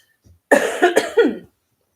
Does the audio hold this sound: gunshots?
no